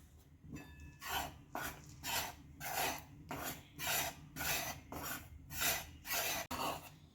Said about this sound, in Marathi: मैदा हा आपल्याला मंद गॅसवर छान खरपूस असा भाजायचा आहे.